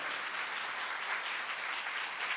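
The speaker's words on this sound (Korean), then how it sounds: "다시 한번 큰 박수 부탁드리겠습니다" Steady, dense audience applause at a family talk concert, an even wash of clapping from a large crowd with no voices over it.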